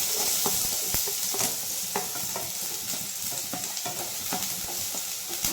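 Onion frying in hot oil in a pan for steamed veg momos, a loud continuous sizzle punctuated by regular stirring clinks and scrapes near at hand.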